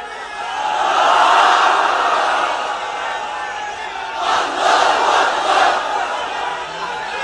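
Large crowd at a Bangladeshi rally raising a sustained collective shout of slogans, swelling early, dipping, then surging again in a second wave of roaring voices.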